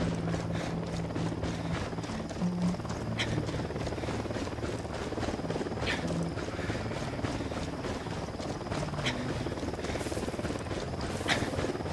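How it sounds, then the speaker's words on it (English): A helicopter arriving in the video game Ghost Recon Wildlands, its steady rotor drone filling the whole stretch with a low, continuous churn and faint periodic blade slaps, with no talk over it. "Chopper inbound."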